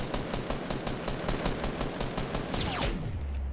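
Sustained rapid gunfire in the battle royale game Fortnite, a dense, loud stream of closely spaced shots running the whole time, with a sweeping whistle-like sound near the end.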